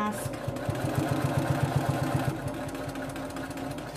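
A sewing machine stitching along the edge of a reversible fabric face mask runs in a fast, even mechanical rattle for a couple of seconds and then slows and fades, while someone talks over it.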